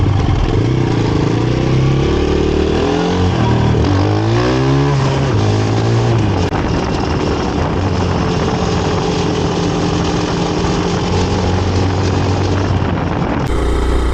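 A Lifan KPX 250 motorcycle with a 249cc EFI overhead-cam engine and six-speed gearbox drones loudly and steadily on an open road, its pitch rising and falling as it pulls through the gears.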